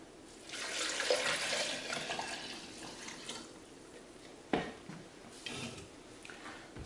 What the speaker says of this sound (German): jetzt geben wir dem ganzen Gemisch noch 1 Liter Wasser hinzu